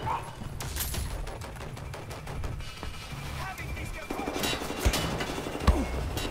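Gunfire aimed at the player in the shooter Wolfenstein: The New Order, with rapid bursts and sharp shots crackling over a low rumbling battle bed. Two louder thumping impacts stand out near the end, and a voice talks over the firing.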